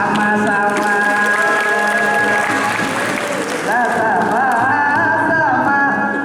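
Audience applause and cheering at a Madihin performance for a university geography program's third anniversary, a dense crowd sound under steady tonal music with a voice carrying over it.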